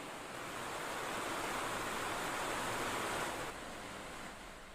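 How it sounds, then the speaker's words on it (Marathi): Rivers and streams swollen after torrential rain rush in a broad, steady roar of water, loud and unbroken, with no voices. "मुसळधार पावसामुळे नदी नाल्यांना पूर आलाय"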